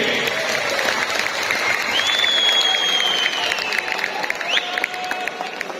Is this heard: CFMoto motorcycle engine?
no